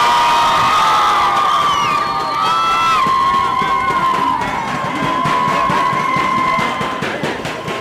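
An outdoor crowd at a cycling celebration in the town of Neira cheers and shouts continuously, with high excited voices, whistles and whoops riding over a dense, loud roar.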